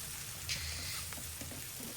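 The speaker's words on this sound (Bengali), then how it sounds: "তো আমি পেঁয়াজ কুচিটা দিয়ে দিলাম" Chopped onion frying in oil in a pan for a koi fish bhuna, a steady soft sizzle with faint crackles throughout, no talking.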